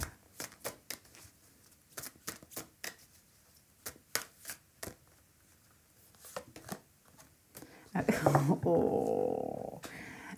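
Tarot cards being handled and drawn, with a string of sharp, close card snaps and flicks in an irregular rhythm, followed by a louder rustling burst of shuffling near the end.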